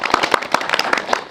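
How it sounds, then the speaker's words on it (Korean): Scattered applause from a small audience at a film guest-visit Q&A, a quick run of sharp, uneven claps close by that lasts only about a second. "박수 한번 부탁드립니다"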